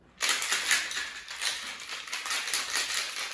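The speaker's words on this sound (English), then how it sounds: "Give this a good shake until you can feel the actual canister getting cold." A cocktail shaker canister full of ice is shaken hard, giving a steady, rapid rattling wash that starts abruptly and carries on close and fairly loud, with no talk.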